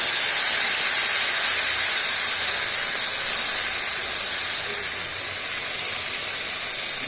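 Masala hits a hot pan for butter mushroom, a steady bright sizzling hiss that holds loud and even throughout with no pauses or voices.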